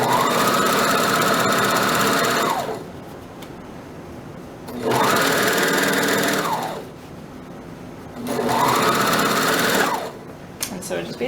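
A sewing machine or serger stitching the side seams of a skirt runs in three loud, steady bursts of about two seconds each, with quieter pauses between them.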